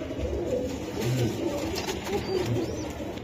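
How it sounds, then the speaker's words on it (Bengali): Soft pigeon cooing murmurs low and steady in the foreground, a continuous throaty burble with faint background bustle and no clear talk. "দেখছেন কবুতরটা?"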